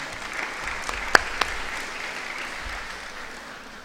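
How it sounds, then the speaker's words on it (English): A school audience applauds a primary school student production, with steady clapping throughout and a couple of sharper individual claps standing out near the start. "The students would deserve a big round of applause for this after that event."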